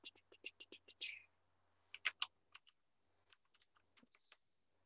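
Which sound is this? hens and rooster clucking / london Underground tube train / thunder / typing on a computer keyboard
typing on a computer keyboard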